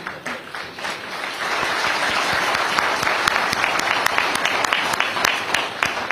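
A seated audience claps at a food awards ceremony in a palace hall in Jaipur, starting patchy and quickly swelling into dense, sustained applause that holds steady to the end.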